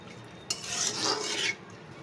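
Fish masala with onion and chilli sautéed in a pan for a fish curry with broad beans and potato, heard as a single scraping, sizzling stir lasting about a second before it goes quiet.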